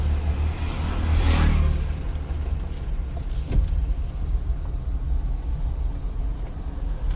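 A car pulls away in first gear during a driving lesson, its steady low engine hum rising briefly as the clutch is let up, with a short swish and a sharp knock partway through; no one speaks.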